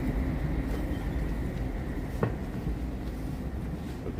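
A heavy, continuous rumble of a train passing close overhead in Tokyo, steady and loud throughout, with a brief metallic clank partway through.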